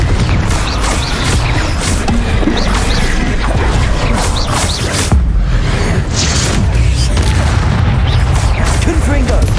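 Confringo fire-blast spells from the Hogwarts Legacy video game, a dense barrage of booming crashes and bursts, loud and continuous, with repeated shouted spell incantations over the explosions.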